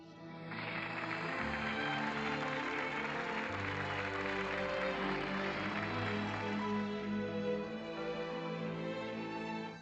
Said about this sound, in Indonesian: saya harap semua orang memberikan tepuk tangan yang meriah kepada istri saya Ibu Zhao Meihua